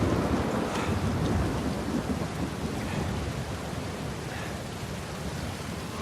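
Heavy pouring rain in the video game Uncharted 4, a dense, steady roar of downpour with a low rumbling undertone that holds throughout.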